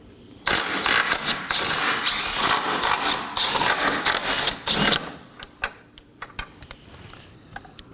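A power tool, likely an impact driver or ratchet, runs out 13mm bolts on the bumper reinforcement bar of a 2018-2024 Chevrolet Equinox in several loud close bursts, followed by faint clicks and handling noises.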